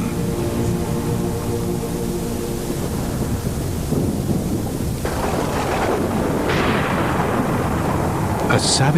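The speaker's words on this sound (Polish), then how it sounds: "Nad Moskwą szaleje gwałtowna burza." A violent thunderstorm rages with dense, steady rain and deep, rolling thunder that swells and crashes loudly throughout, a continuous, enveloping roar with no talk.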